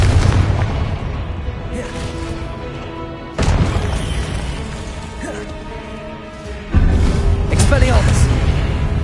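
Confringo fire spell blasts in Hogwarts Legacy, heavy booming impacts landing in a sudden burst, fading, then another sharp blast later, set against a busy combat rumble.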